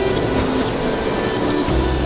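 Sea water surging up a rocky shore on a seascape coast in Karmøy, Norway: a continuous loud wash of surf with a low rumbling swell building near the end.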